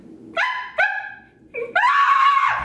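Several high, yelping barks from a Shih Tzu, close by: two quick yips, a pause, then a longer drawn-out whining bark.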